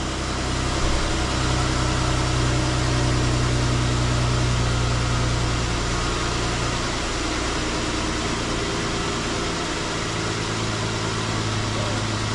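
A 2012 Jeep Wrangler engine runs steadily after an engine swap, a continuous close idle drone with an even low hum and no talking over it.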